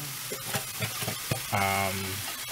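Chopped tomato and onion sauté in a pan ahead of corned beef, with a loud, close sizzle and repeated scraping stirs. A brief tonal hum rises partway through.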